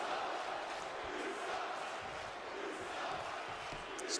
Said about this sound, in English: This crowd really letting her hear it.